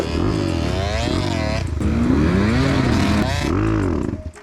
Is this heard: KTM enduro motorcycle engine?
yes